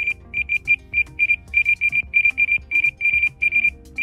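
An electronic bite alarm on a fishing device sends out very high-pitched beeps in short irregular bursts, some single and some doubled, loud and close over a faint background.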